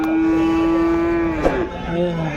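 A calf gives one long, drawn-out moo nearby, followed by fainter animal calls over a busy cattle market background in Punganur.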